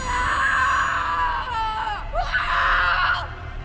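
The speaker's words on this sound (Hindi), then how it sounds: "उसके बाद बस उसकी चीखें सुनाई दी" Drawn-out screams from a horror story, loud and anguished wails rising and breaking with whimpering tones, heard close and continuous over a dark ambient background.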